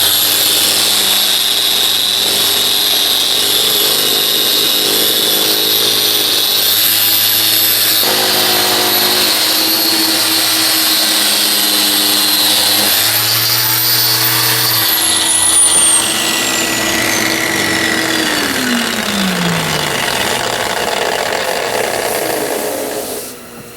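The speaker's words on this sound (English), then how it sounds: "Now I have to take this aggressive sander, but I have to be careful I don't sand through these paper thin veneers." An aggressive power sander works steadily on paper-thin walnut veneers for over twenty seconds, loud and close with a constant whine, then its pitch sweeps downward as the motor spins down near the end.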